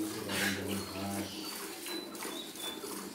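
Pigeons on a dairy farm coo in low, droning tones, loudest at the start, with background voices and farmyard noise around them.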